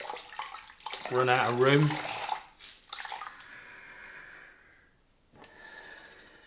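Water runs and splashes as shaving lather is rinsed out of a face cloth, starting under a short spoken remark and continuing alone at moderate volume, with a brief break near the end.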